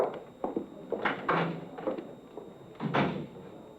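Side door on an old radio crime drama: wooden knocks and latch clicks, then a firm closing thump, close and dry, made as a studio sound effect.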